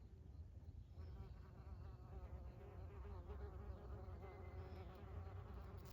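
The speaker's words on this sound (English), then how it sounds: "Now you got a couple wasps in there, and they're looking for grubs." Wasps buzz close by among lettuce plants, their wingbeats forming a continuous, faint drone that rises and falls steadily with no voices.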